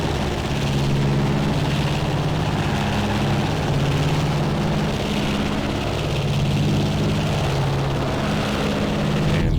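Steady, loud piston-propeller drone from the twin engines of a Beech 18 Volpar in X-Plane 11, holding an even low hum through the whole stretch with no voices over it.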